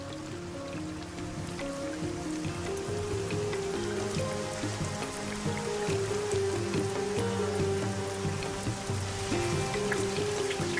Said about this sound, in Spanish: El resultado es la lluvia.